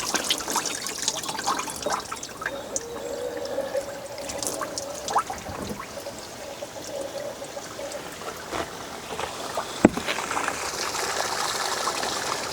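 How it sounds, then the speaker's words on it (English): Clean water runs out of an old, abandoned boat's engine as it is flushed, a soft steady trickle and splash with one sharp knock near the end. "It's already clean water coming out there, so let's switch to the other side here."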